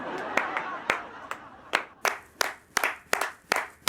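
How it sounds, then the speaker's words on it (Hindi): Sharp handclaps, a dozen or so in an irregular, loosening rhythm, moderately close, with a faint murmur of voices beneath, in a Hindi comedy household sketch. "तालियां।"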